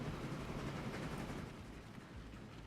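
Train running through a town in Train Fever, a steady low rolling rumble with faint rhythmic rattle, moderately quiet and heard alone.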